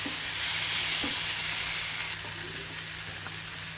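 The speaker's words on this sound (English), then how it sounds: "Now let's toss the corn properly in the pan before we take it out." Corn on the cob coated in peri peri sauce sizzles steadily in a hot pan. Occasional soft knocks come from tossing, and no voices are heard.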